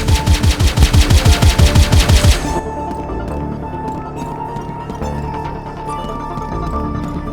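Rapid bursts of automatic turret gunfire in a video game, loud and evenly spaced for about two seconds, then cut off and followed by a lower, busier game soundscape with scattered clicks and tones.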